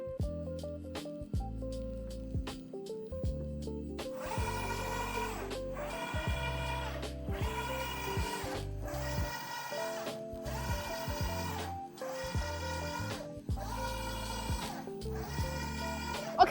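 A wall mural printer running a print job, a steady repeating mechanical rhythm of carriage passes with whirring motor tones and regular pulses, close and continuous with no talk.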